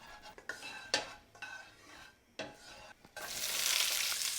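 Green pepper fried in hot oil for a Chinese Xiamen beef dish: several close spoon-and-pan clatters and scrapes, then a sudden loud, sustained hiss as the pepper hits the oil.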